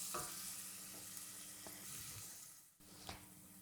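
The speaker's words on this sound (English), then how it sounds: "The shallots need a good 5 minutes to soften down, so keep them on a low heat, give them a stir from time to time and just let them soften." Shallots soften in a pan over low heat, giving a quiet, steady sizzle. A few soft scrapes from a stir come through, along with a brief clink near the end.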